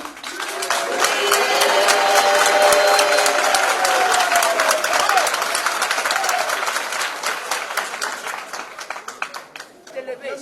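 A church congregation claps and cheers in loud, sustained applause that builds quickly and then slowly thins out into scattered claps.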